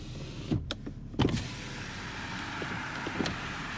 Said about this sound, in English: so there you go, power windows